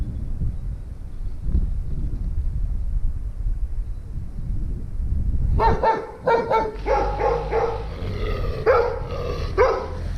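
On a cycling road in Greece, after a quiet rumbling stretch, dogs start barking in quick repeated bursts, fairly close, several barks overlapping in the second half.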